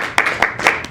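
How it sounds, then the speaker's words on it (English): Four crisp, evenly spaced handclaps sound close by in quick rhythm as a round of applause begins at a playoff event. "Let's give a round of applause."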